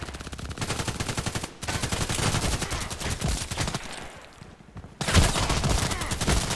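Rapid volleys of gunfire in a shooter video game, HK417 rifle in play, loud and nearly continuous bursts with a short, quieter lull before the shooting resumes.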